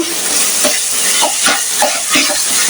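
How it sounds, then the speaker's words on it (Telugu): Onions fry in a pan for a dried shrimp fry, a close, loud sizzle broken by regular scraping stirs roughly every half second. "చూద్దామండి ఇప్పుడు ఒకసారి మన ఉల్లిగడ్డలు వేగాయా లేదో"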